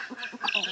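Chinese and Belgian local ducks let out a short burst of quacks, a few quick nasal calls close by, all over in under a second.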